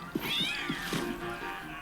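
An animated cat meows in Puss in Boots: The Last Wish, a close, clear, rising-and-falling cry that stands alone without talk.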